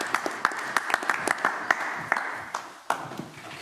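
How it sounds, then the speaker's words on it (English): Scattered applause greets Khairulo Dagoboev, a modest group clapping with distinct individual claps audible, thinning out and tapering off toward the end. "Applause to Khairulo Dagoboev."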